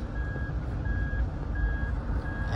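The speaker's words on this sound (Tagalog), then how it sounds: "alarm ng alarm simula doon hanggang dito kasi nga hindi sarado yung sasakyan" A vehicle's alarm beeps because its door will not close, parked at a Home Depot with long vinyl flooring loaded inside. Four evenly spaced, steady tones repeat over a low rumbling background.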